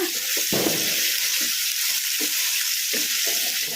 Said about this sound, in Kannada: 1-2 ನಿಮಿಷ ಹೈ ಫ್ಲೇಮಲ್ಲಿ ಫ್ರೈ ಮಾಡ್ಕೊಂಬಿಡೋಣ